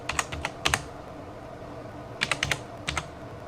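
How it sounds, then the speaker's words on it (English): Quick bursts of typing on a computer keyboard, a few rapid clicks, then a pause, then another short run of keystrokes, all close and fairly quiet. "So we'll type in Shotwell"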